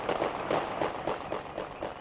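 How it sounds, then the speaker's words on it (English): Rapid bursts of gunfire crackling in an irregular rhythm through the whole stretch, fairly loud and close, with no talk over it, during the 1999 Kosovo war. "The gunfire didn't help."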